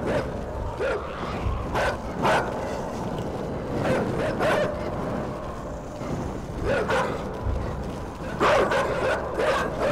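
A dog in the game Inside barks repeatedly in sharp, loud yelps spaced irregularly over a low rumbling background.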